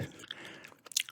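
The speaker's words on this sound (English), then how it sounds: "It's probably because I'm chewing the gum too" Gum is chewed close to the microphone, giving soft wet smacks and small crunchy clicks over about a second.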